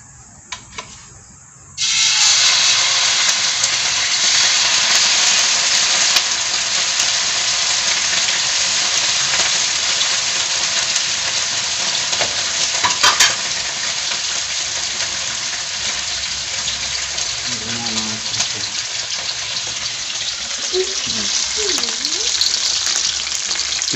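Sardines frying in a pan break into a loud, steady sizzle after a quiet start, with the occasional scrape of a spoon stirring through the oil.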